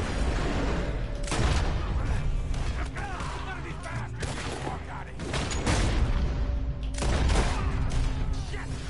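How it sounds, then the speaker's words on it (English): Gunfire in the video game Red Dead Redemption 2 comes as several sharp shots at irregular intervals over a busy, continuous game background, with voices talking throughout. "I put a bullet right through that guy's chest."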